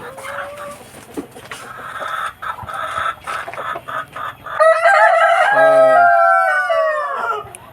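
Roosters at a backyard chicken coop in the countryside, clucking in short bursts before one bird lets out a loud, close, drawn-out crow.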